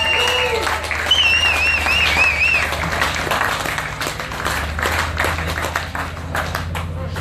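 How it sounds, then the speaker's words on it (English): A crowd claps at an awards presentation for a drag racing grand final. Steady applause rises and fades over several seconds, with whistles and cheers mixed in and some voices underneath. "ladies and gentlemen, give him a round of applause."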